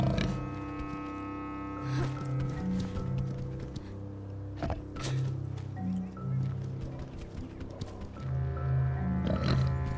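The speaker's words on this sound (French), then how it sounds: "Oh mon dieu, le cochon qu'on a vu tout à l'heure." A pig creature in the video game Planet of Lana gives repeated low grunts and snorting calls, rising and falling over a sustained tonal game backdrop.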